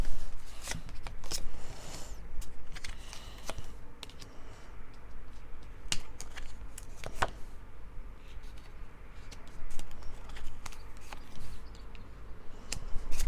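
Tarot cards are shuffled by hand close up, with repeated sharp riffles and snaps between softer sliding and tapping, continuing in uneven bursts with no talking.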